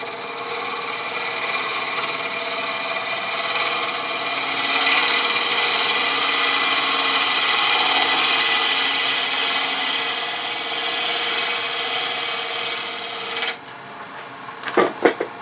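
A small bowl gouge cuts wood turning on a lathe, a steady close rasping scrape with a high whine that swells in the middle and then stops, leaving a few clunks from the tool.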